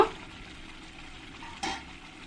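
Spice paste frying in oil in a pan, a steady soft sizzle throughout, with a brief louder burst as the lid is lifted near the end.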